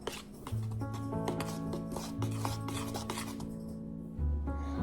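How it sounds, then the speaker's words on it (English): Cinnamon roll cookie dough being mixed by hand in a bowl, a steady rubbing, scraping sound that carries on continuously beneath a sustained tonal background. "now we're going to mix it"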